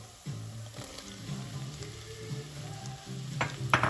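Celery sautéing in a pot for lentil soup with smoked sausage, a close steady sizzle with scraping stirs and a louder burst of clatter near the end.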